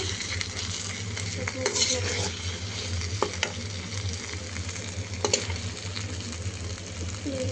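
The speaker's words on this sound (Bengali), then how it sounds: "বেশি করে পেঁয়াজ, বাটা মশলা, কাঁচামরিচ, ধনিয়া পাতা, পেঁয়াজ কুচি এগুলো দিয়ে ভুনা করতেছি।" Small shing fish bhuna with onions, ground spices, green chillies and coriander sizzles steadily in a pan while a spoon stirs and scrapes in repeated bursts, close and fairly loud.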